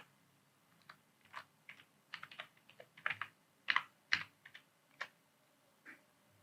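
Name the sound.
typing on a computer keyboard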